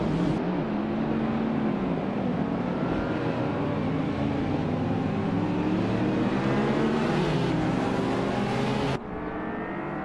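Engines of race cars in a video game, a classic 1986 BMW M3 among them, roar together at the start of a race at Autodromo Riccardo Paletti, a dense steady drone with rising pitch, cutting down abruptly near the end.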